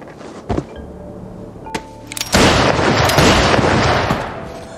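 Gunshots from a hitman turning on two other killers in a gangster drama scene, a few sharp cracks followed by a loud, sustained rumbling burst that fades out.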